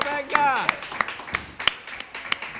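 Sparse, fairly regular hand claps at a live Spanish rock show in a café-tavern, sharp and close, mixed with loud voices and shouting over the top.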